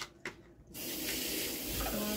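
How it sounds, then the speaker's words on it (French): Kitchen tap water running over a pot lid, starting abruptly after a couple of light knocks and pouring as a steady close hiss of rinsing water with a brief shift in tone near the end. "j'ai pas rincé le couvercle"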